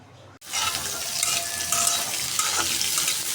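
Dried chili peppers frying in a pan, a steady hissing sizzle that starts abruptly and continues with faint stirring scrapes, close and fairly loud, with no talk.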